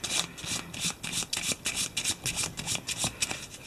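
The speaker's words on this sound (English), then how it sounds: "I can shuffle the Dreamlands card stack." A stack of Dreamlands cards from the Eldritch Horror board game being riffle-shuffled by hand, giving a run of quick, crisp, papery flutters and rubs in close, uneven bursts with no voices.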